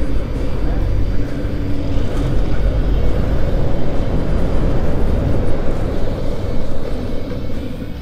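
Steady low electric motorcycle drone while accelerating, with road and wind rumble, holding level and loud throughout without distinct gear changes.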